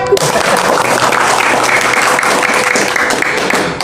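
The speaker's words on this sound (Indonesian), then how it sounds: "Tepuk tangan lagi kepada peserta yang paling baik." Sustained clapping from an audience at a Taklim Ma'rifat study gathering, dense and loud, rolling on evenly for several seconds before easing slightly at the end.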